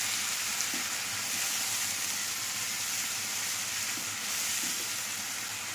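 Onion paste frying in a pan, a soft continuous sizzle with faint crackles, steady and quiet throughout.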